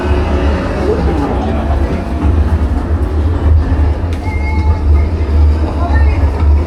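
A simulated train ride at a Harry Potter attraction in Japan: a steady, loud low rumble with rattling carriage noise runs throughout, with people talking over it.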